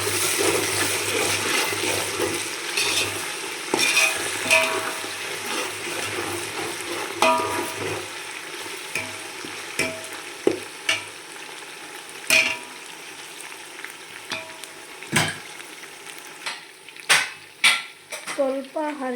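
Washed mint and coriander leaves hit a hot pan and fry, with watery sizzling and scattered stirring and utensil clatter, growing into sharp clinks and scrapes toward the end; no talk.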